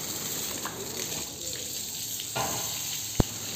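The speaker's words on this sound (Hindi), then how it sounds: "पानी में मुंह मार रहा है।" Pitbull dog in a bath snapping its mouth at running water, a steady close splashing gush with a brief surge midway and one sharp splash near the end.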